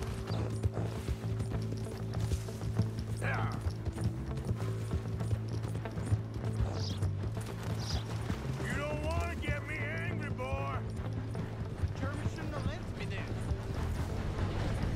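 Horse hooves clip-clop steadily in the open-world video game Red Dead Redemption 2, set under a constant game music drone, with a brief burst of whinny-like wavering tones midway; speech is also present.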